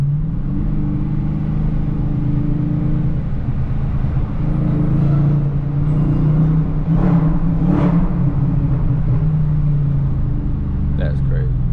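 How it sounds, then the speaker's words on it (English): Car cabin drive through a road tunnel with a loud, steady engine and road drone throughout, a rising whine layered over the rumble, and people talking over it. "Let's see if we can hear the whine in the tunnel."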